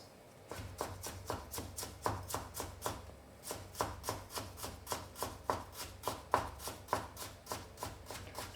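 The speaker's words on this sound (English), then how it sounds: "Oh, I love cutting ginger." A knife slices peeled ginger into thin slices on a cutting board, giving a quick, even series of crisp close-up chops that carry on steadily, with no voices.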